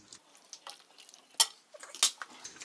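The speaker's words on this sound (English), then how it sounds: "And I will put back in the pot. Okay. Stir it." A pot of Lao coconut noodle soup (mii kathii) being stirred, with a spoon scraping and clinking against the pot in a few sharp knocks and softer swishes, close up and without talk.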